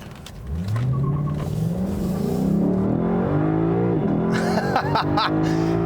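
A 2018 Lexus LC500's V8 engine revs up through the gears, its rising tone climbing loud and close, dropping at a shift before surging again, with a voice briefly mixed in.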